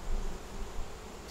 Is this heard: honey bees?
yes